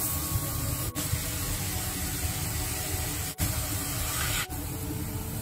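Shredded green beans sizzle in a wok with oil, pork strips, star anise, dried chili and scallion, a loud steady hiss of frying close up with a few brief dips in the sputter.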